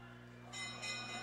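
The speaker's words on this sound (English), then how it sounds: "There's the bell for one to go." A ringing last-lap bell at a short track speed skating race sounds at moderate volume through arena noise, with a race commentator talking over it.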